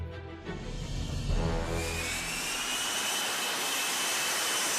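Loud, steady roar of the F-35B jet engine as thrust builds, swelling after a second into a sustained rushing blast with a rising high-pitched whine, close and continuous.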